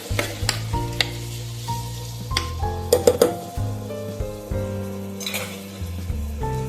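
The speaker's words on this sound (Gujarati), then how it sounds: "એને પણ એડ કરશું અને એકદમ સરસ મિક્સ કરી લેશું" Chopped onions being stirred into a frying pan while cooking dal for village-style dal baati churma: scraping stirs, a few clinks and a soft sizzle, all mixed under steady tonal background music.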